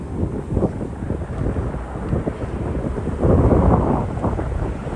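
Strong gusts sweep through Branch Brook Park, buffeting the microphone with a steady low roar that swells louder toward the end, with no voices.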